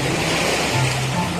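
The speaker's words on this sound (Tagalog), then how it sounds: "malakas yung alon" Strong ocean waves wash onto Mini Boracay Beach in Dasol, Pangasinan, making a loud, continuous rushing roar up close.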